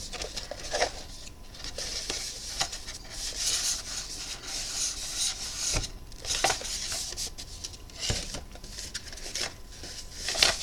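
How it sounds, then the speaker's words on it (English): Paper or card being creased by hand for a box gives soft, close rubbing and scraping strokes in uneven bursts, with a few sharper scuffs between quieter stretches. "Just crease that a bit."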